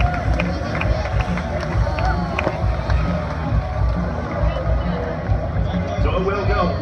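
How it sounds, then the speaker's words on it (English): Spectators cheer and chatter steadily near the finish of a men's pro criterium bicycle race in Redlands, a dense crowd roar that holds through the whole stretch without pause. "Keep cheering them in all the way through, guys"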